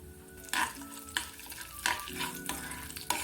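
Mustard seeds, cumin and lentils sizzle in hot oil for a mint coriander pickle, a continuous close crackle broken by several sharp scraping stirs of a spoon in the pan.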